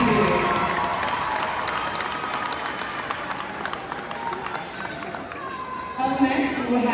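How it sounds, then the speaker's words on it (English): Graduates at an 8th grade moving-on ceremony receive a sustained round of applause from a large audience, with clapping and some cheering, while a voice speaks over it near the end. "Let's give you all a round of applause."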